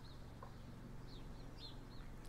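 Several faint, brief bird chirps come through over a steady low mechanical drone, like a lawnmower running nearby.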